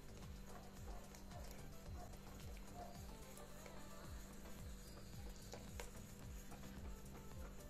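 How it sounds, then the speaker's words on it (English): A whisk beats a dry mix of flour, baking powder and salt as the wet mix is slowly added for red velvet waffles, making soft, steady, rhythmic scraping strokes in a bowl, faint and close. "we're going to whisk that together while slowly adding the wet mix."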